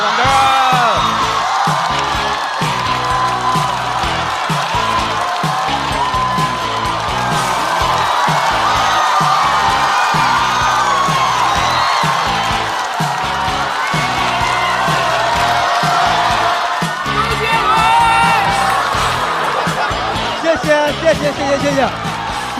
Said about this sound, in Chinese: 掌声欢迎何广智